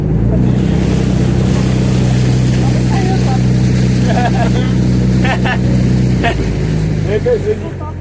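A motorboat engine drones steadily close by over wind and water noise at Hendaye, with people talking faintly in the background.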